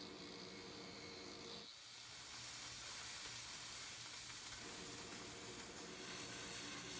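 Torch hissing steadily while shaping metal, a loud continuous broadband rush that dips briefly then resumes with a low rumble underneath, close and unbroken.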